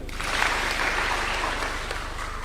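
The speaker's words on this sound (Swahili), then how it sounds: "Mpigeni makofi." Steady, dense applause from a large crowd at a political speech in front of the president, a continuous wash of clapping holding at even loudness throughout.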